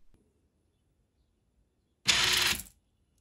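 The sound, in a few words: 3D printed mechanism dispensing 10 screws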